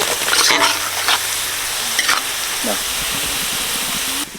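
Raisins frying in hot oil as they are stirred, a steady loud sizzle and hiss with occasional scraping, alongside faint background voices.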